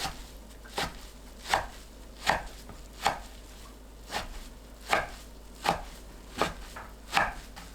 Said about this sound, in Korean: 파래 뭉친 곳 펼치고 1cm 간격으로 썰어주세요.